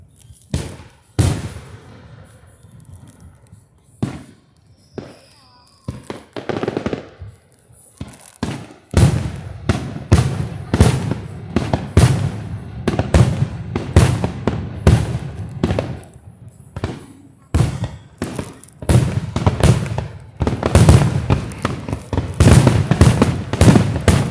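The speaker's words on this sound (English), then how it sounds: "quiet for 5 minutes and just watch the fireworks" Labor Day fireworks over Lobdell Lake, a long series of loud booms and crackling bursts, sparse at first then rapid and overlapping, with occasional voices from the crowd.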